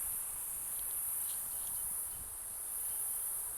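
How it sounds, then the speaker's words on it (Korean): Crickets chirping in a pine forest, a steady high-pitched continuous trill heard faintly but unbroken throughout, with light rustling and soft footsteps underneath and no talking. "이 자연의 소리를 들리세요. 귀뚜라미 소리죠 이거."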